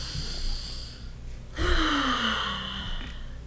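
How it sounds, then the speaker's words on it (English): Deep breath taken during a tapping relaxation session, a close, audible inhale followed by a long, slow exhale with a faint voiced sigh. "Take a nice breath."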